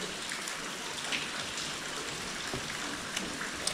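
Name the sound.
rain falling outside in a forest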